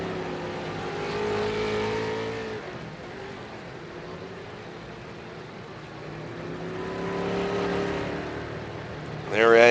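Racing video game cars pulling out of pit lane onto USA International Speedway, a steady engine drone with rising revs, sitting under continuous commentary, with a louder burst at the very end.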